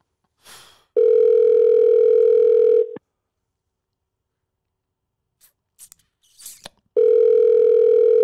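A steady telephone dial tone sounds during an attempted call to a sports radio show caller. It comes as two loud sustained stretches with a quiet gap between them that holds faint clicks.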